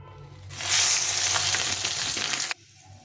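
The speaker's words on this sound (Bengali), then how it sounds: "এখানে আমি শুকনো লঙ্কা তেজপাতা আর পাঁচ ফোড়নটা দিয়ে দেবো" Dried red chillies, bay leaves and five-spice seeds hit hot oil, bursting into a loud, bright sizzle that starts suddenly, holds steady for about two seconds, then cuts off to quiet.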